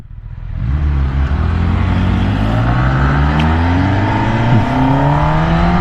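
Kawasaki Ninja ZX10R and Yamaha R1M sport bikes accelerating hard in a drag race, a loud sustained engine roar climbing steadily in pitch with rising harmonics, close and continuous throughout with no talk.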